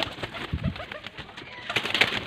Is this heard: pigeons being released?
yes